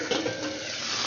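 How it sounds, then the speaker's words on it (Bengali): Potatoes fry in a pan with a close, steady sizzle and a soft stirring scrape, short and even, with nobody speaking. "এখানে আলু ভাজা হচ্ছে।"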